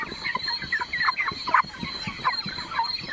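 A flock of broiler chickens in a company-contract poultry farm shed, with dense overlapping clucks and chirps close by, steady and busy, over a constant high mechanical hum.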